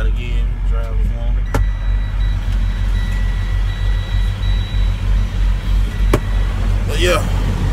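Steady low engine rumble of a truck rolling down a road on a dedicated route run, constant and close throughout, with a voice talking over it and a couple of brief sharp clicks.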